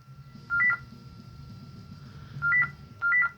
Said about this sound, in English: Oh, my phone's going.